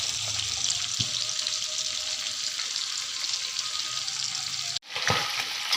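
Chicken pieces frying in hot oil for a homestyle fried chicken, a steady close broadband sizzle that runs throughout, with a brief clatter near the end as the sizzle dips and swells back.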